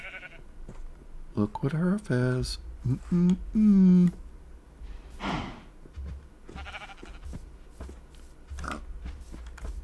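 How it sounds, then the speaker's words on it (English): Brown sheep bleating in Minecraft, a few wavering nasal bleats in quick succession near the start, loud and close, followed by other game sounds while someone talks. "Got some brown sheep."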